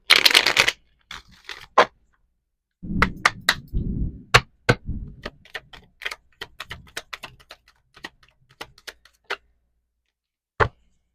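Oracle cards are shuffled and handled at close range in a flurry of riffling followed by scattered crisp taps and flicks, with quiet gaps between them.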